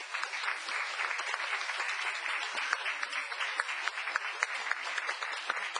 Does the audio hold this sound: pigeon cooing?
no